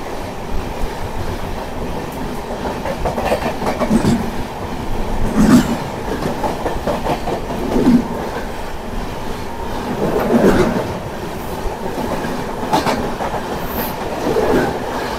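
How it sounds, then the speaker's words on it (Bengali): The 13125 Kolkata–Sairang Express heads toward Guwahati past Kamakhya, its steady heavy rumble heard from on board and broken by regular clickety-clack beats from the wheels over rail joints. "একদম সঠিক টাইমে কিন্তু চলছে আমাদের ট্রেন, দারুণ চলছে"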